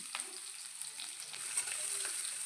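Chopped medium onions sizzling in hot oil in a wok with cumin and a cinnamon piece, a steady quiet fry with occasional soft pops and stirring scrapes, no voices.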